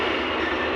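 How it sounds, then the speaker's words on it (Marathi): A moving train, heard from on board, gives a steady, loud rumble with no talking in a very brief stretch. "फायनली ट्रेन चालू झालेली आहे"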